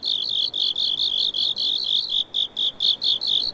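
Rapid insect-like chirps from crickets in the video game The Scroll of Taiwu, pulsing in steady bursts at a bright high pitch over a faint low background, with no voices.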